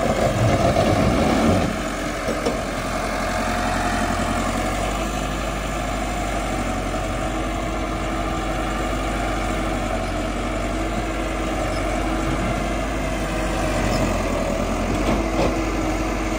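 A Massey Ferguson tractor engine runs steadily throughout, a loud, continuous low diesel drone with a constant even rumble and no talk, heard while pulling a five-tine cultivator in a field.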